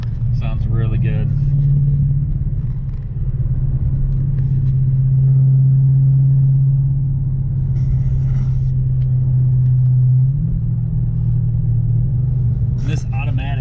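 Inside a heavily modified Dodge Hellcat with an automatic gearbox, a steady low engine rumble and road drone fill the cabin, with the pitch shifting gently as the car cruises and shifts.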